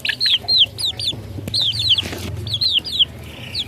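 Shamo gamecocks clucking in a quick series of sharp, high calls, close and fairly loud, with brief pauses between bursts over a low background rumble.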